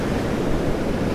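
Ocean surf breaking on a windy beach where seaweed collects during striped bass fishing, heard as a steady, loud broadband wash of waves with wind noise filling the whole moment, no voices.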